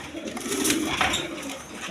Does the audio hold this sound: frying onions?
no